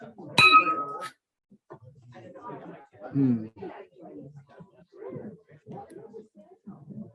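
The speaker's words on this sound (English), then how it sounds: "That's one of the high points is ringing that bell." A club president's bell rings out once at a Rotary club meeting, a bright metallic ding with a short ringing decay, followed by people chatting and talking nearby.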